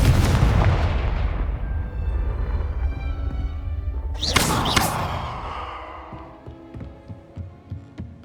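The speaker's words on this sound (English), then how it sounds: "Confringo." Confringo blasting spell in Hogwarts Legacy on PS5: a heavy explosive boom at the start, then a second sharp blast midway, followed by a decaying rumble and faint rhythmic thuds.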